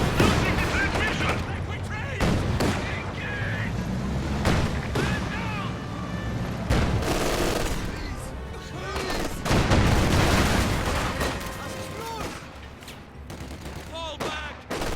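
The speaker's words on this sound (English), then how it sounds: "Taking fire." Gunfire crackles through a video game battle in rapid bursts and single shots, some sharp and close, others booming, continuing across the whole stretch with game voices mixed underneath.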